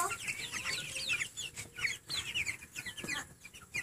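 Several chickens cluck and chirp busily while being fed, close by, with rapid overlapping calls continuing throughout.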